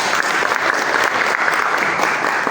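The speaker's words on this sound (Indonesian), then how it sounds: "Kita kasih aplaus dulu buat Ibu Dewan kita." Audience clapping fills a regional council meeting hall on a draft regulation on burial grounds: dense, steady applause sustained and fairly loud throughout, with no talk over it.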